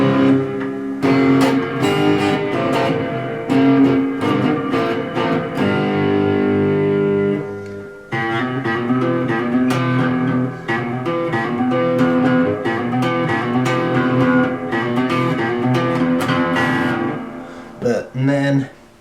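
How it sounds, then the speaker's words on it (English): An electric guitar runs through reverb and overdrive pedals together, playing sustained, gritty chords and phrases that ring into a washy tail, with a brief pause midway and no talk over the playing. "the reverb and the overdrive together sound like this"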